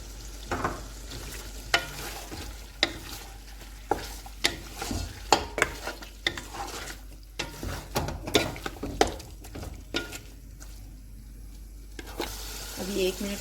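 Cooked, tender beef stirred in a pot with onions and coriander, giving a soft sizzle broken by repeated clinks and scrapes of a spoon against the metal, close and moderately loud, with no voices.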